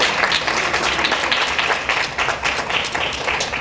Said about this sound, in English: Please give a round of applause to your supporters in the audience.